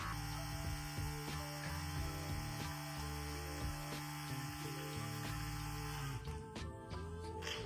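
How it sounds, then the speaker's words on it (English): A small electric pump on a homemade 5 gallon bucket sprayer runs with a steady mains-like hum and tonal whine, faint and continuous, shifting pitch toward the end. "Okay, so the pump does work."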